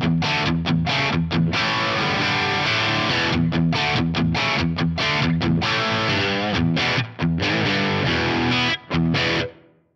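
Electric guitar played through a Karen CCV2A rock amp profile with plate reverb, thick distorted chords chugging in rhythmic bursts with brief stops, loud and close, ending on a sustained ring.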